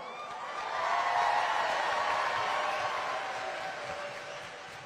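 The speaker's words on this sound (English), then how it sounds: "Can we give it a round of applause for Hawaii?" A gathering crowd applauds in honour of Hawaii, a broad wash of many hands clapping that swells in the first second, holds steady, then slowly tapers, with faint whoops and cheers mixed in.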